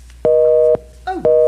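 Telephone busy signal in an old radio drama, two steady tone bursts with a brief gap and a short click between them, loud and close.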